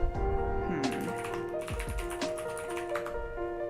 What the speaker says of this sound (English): My keyboard's going to be loud because it's mechanical.